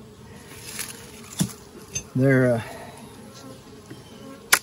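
Honey bees in a nectar flow buzz around an open hive, a soft continuous hum with one louder, closer buzz passing briefly, faint clicks and someone speaking a few words.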